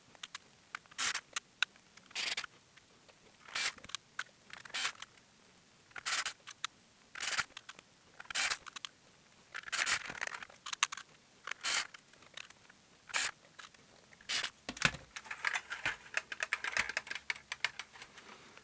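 Small clicks, snaps and plastic knocks come from reassembling a JVC E78 video recorder, fitting its parts and buttons back together in a close series of sharp, irregular taps, with no talk.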